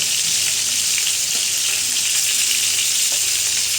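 Chicken pieces for biryani fry in hot oil with a constant loud, dense sizzle and hiss close by, only faint knocks now and then and no talking.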